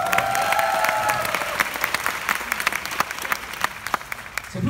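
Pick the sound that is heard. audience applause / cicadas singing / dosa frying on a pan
audience applause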